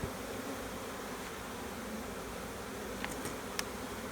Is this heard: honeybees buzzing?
yes